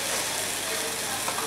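Tomatoes and onions fry in a pan with a dense, continuous close sizzle, steady and loud throughout the short stretch.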